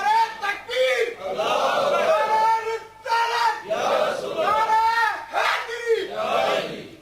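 A gathered religious audience shouts the takbir slogan back in unison, loud massed voices rising in several rhythmic bursts separated by short pauses.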